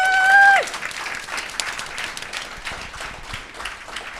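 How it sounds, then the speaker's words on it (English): Steady applause from an audience, following a brief whistle or tone at the start, with occasional louder individual claps standing out. "so give yourselves a round of applause."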